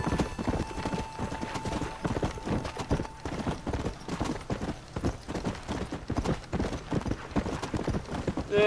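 Galloping horse hooves in the video game Red Dead Redemption Undead Nightmare, a fast, regular clip-clop rhythm that carries on steadily throughout, close and clear, with no talking.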